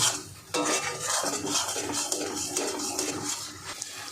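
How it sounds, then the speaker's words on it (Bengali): A shrimp and pointed gourd paste is stirred and fried in a pan, with continuous scraping and clinking of a utensil against the pan over a soft sizzle, close and steady. "এটা কিন্তু এরকম অনবরত নাড়তে হবে, নাড়তে নাড়তে ভাজতে হবে"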